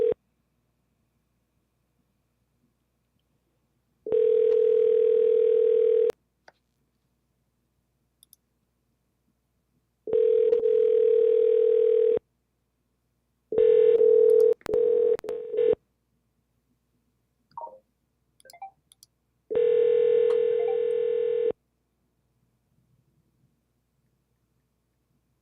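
Outgoing phone call to a broker: repeated ringback tones, about four two-second rings separated by silence, fairly clear and alone, with a few faint clicks between them.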